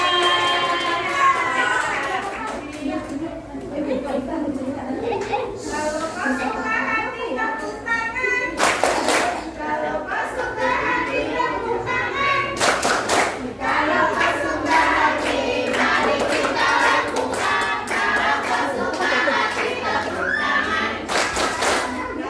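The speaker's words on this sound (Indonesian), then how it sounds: "Tepuk tangan buat Kak Difla." Young audience at an Isra' Mi'raj children's storytelling session claps for the storyteller, a scattered patter with a few louder bursts mixed under ongoing talk and children's voices.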